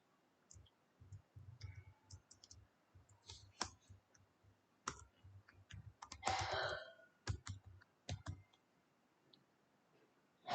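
Computer mouse clicks, crisp and close, scattered irregularly in short bursts with pauses between, some coming as quick double clicks, over a quiet room background.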